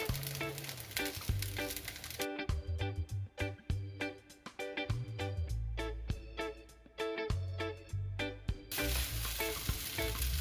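Vegetables and green onions frying with egg-fried rice and kielbasa in a hot pan: a steady close sizzle broken by repeated scraping and stirring knocks, over soft background music.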